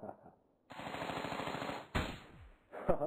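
Rapid automatic gunfire in a video game, a dense burst of shots lasting over a second, then a cut to another short volley and a final loud shot, with brief game sounds around them.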